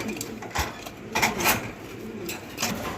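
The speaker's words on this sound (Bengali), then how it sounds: "এখানে আরও এক জোড়া ইন্দোনেশিয়ান শৌখিন কবুতর আছে" Indonesian fancy pigeons at a breeding farm give soft, faint cooing in a few short bursts over low background noise.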